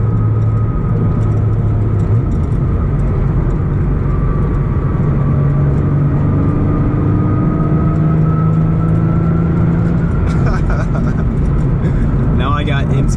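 Steady loud drone of a car's intake, exhaust and transmission while cruising at speed, a constant low engine roar with faint whine and rattle, no pauses throughout.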